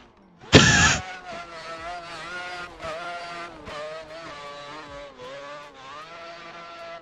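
A four-rotor rotary engine in a Nissan 300ZX in a racing video game, a sharp loud burst then a sustained buzzing multi-harmonic drone with rising and falling revs through gear changes, no talk.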